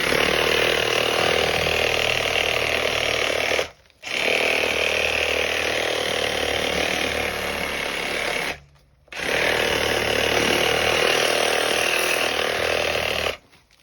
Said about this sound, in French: le plus simple, c'est la scie sabre